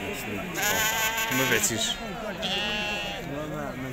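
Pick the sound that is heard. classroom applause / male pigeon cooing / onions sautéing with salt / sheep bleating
sheep bleating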